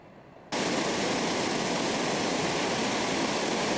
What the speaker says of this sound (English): This is the mountain stream that we crossed yesterday with the chairlift